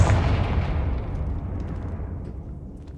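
A Confringo explosive spell goes off in Hogwarts Legacy, a loud close blast with a deep rumbling boom that decays slowly over about three seconds, faint crackles trailing at the end.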